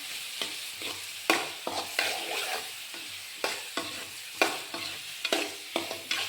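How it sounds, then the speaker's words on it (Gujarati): Potatoes fry with tomatoes and salt in a pan for a dry potato dish, giving a continuous close sizzle broken by regular scraping strokes as a utensil stirs them. No one talks. "નાખું બટેકા. હાલો મિક્સ કરી નાખી."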